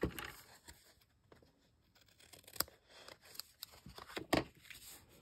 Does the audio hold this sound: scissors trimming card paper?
yes